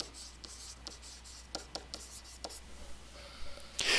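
Pen or marker scratching on a surface while polynomials are written out by hand, short strokes in an irregular rhythm, close and quiet, ending with a louder rustle.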